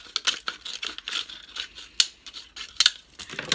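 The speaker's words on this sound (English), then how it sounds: "You're just gonna go around with your scissors." Scissors snip around a plastic Coke bottle in a steady run of close, crisp crackling cuts and crinkling plastic, with a few sharper snaps, quiet and without talking.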